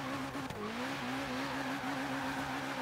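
A BMW's engine in the racing game Forza Horizon 3 drones steadily and loudly at a constant pitch throughout, with a faint tire squeal early on.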